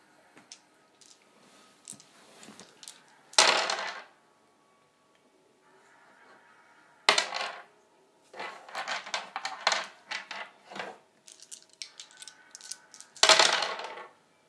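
Dice rolled during a tabletop role-playing game, clattering and tumbling on a hard surface in several separate bursts of rapid ticks and knocks with quiet gaps between throws.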